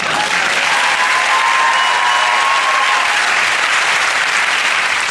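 Studio audience applause on a British TV music quiz show, a sustained, even wash of clapping from a full crowd lasting several seconds without interruption.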